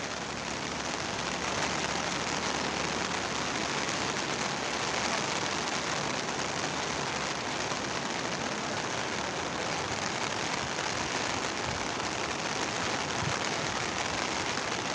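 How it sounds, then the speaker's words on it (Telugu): Heavy rain pours steadily onto a flooded road, a loud, dense, unbroken hiss of water striking water and pavement that holds evenly throughout with no voices. "వర్షంలోనే తీస్తున్నామండి గొడుగేసుకొని"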